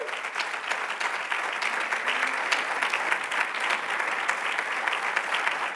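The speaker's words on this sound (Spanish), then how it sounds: "Denle un fuerte aplauso al Señor." A church congregation applauds steadily throughout a nighttime worship service, dense and sustained clapping from many hands with no voices on top.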